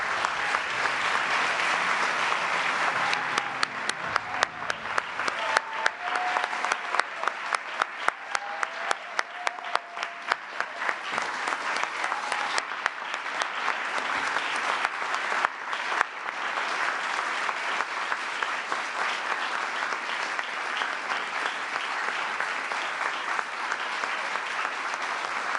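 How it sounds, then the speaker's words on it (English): Sustained applause from an audience at an International Women of Courage award ceremony, dense clapping that holds steady throughout with no speech over it. "Please join me in a round of applause for all of our awardees."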